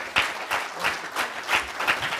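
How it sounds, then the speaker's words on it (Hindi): Audience applause for the poet Rehman Faris, heard as a few loud, spaced claps over a lighter spread of clapping, moderately close and without talk. "मैं चाहूँगा भरपूर तालियां रहमान फारिस भाई के लिए बजाएंगे"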